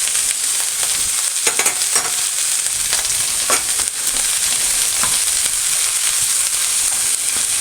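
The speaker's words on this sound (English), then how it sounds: "Just make sure that butter is getting melted and distributed around the cabbage." Unsalted butter melts and sizzles with a cabbage and vegetable mixture in a pan for strudel filling: a steady, close frying hiss broken by scraping stirs.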